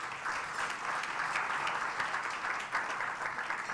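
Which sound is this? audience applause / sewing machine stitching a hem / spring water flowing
audience applause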